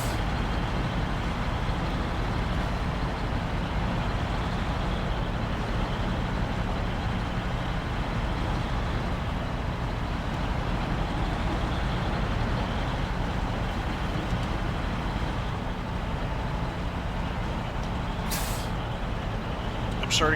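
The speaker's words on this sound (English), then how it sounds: "there's a lot of noise and mud flying around for not going anywhere." A truck engine roars steadily in the video game SnowRunner as the vehicle sits stuck in mud on a Yukon map, a continuous loud drone with a short hiss near the end.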